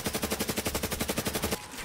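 An automatic weapon fires a rapid, even burst of about a dozen shots in Black Ops 3 custom Zombies, fairly quiet, then cuts off abruptly.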